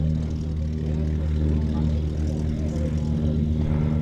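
A propeller aircraft flies past at the Little Gransden airshow, a steady droning engine hum that stays loud and constant, with a commentator talking over it.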